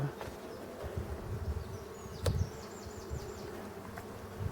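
Honeybees hum steadily at an opened Dadant hive in the forest, a dense continuous buzz with a few individual bees passing close by.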